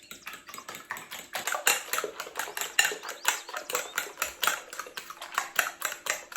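Eggs cracked into a bowl being beaten with a utensil while preparing a chicken dish, a fast, steady run of light clicking taps against the bowl, close and continuous for several seconds, with no talking.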